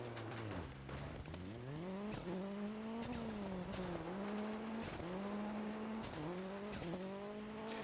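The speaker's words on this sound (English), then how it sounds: "It's really cool to get to hear these cars from the outside for once." Race cars in the Dirt Rally 2.0 video game pass by as heard from outside, engines revving up and down in repeated sweeping pitch rises and falls, with tire squeal and skidding mixed in, at moderate loudness and with no talk.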